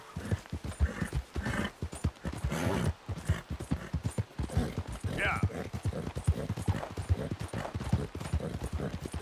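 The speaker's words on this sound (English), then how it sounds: "Qué pequeñito es este caballo, Pero cómo corre, tú." Small horse galloping in Red Dead Redemption 2, rapid rhythmic hoofbeats running steadily throughout, close and fairly loud beneath someone talking over it.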